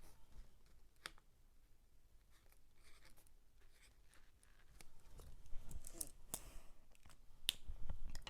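A pen scratches out a handwritten message in quiet, short strokes with scattered light taps and clicks, growing a little busier and closer toward the end.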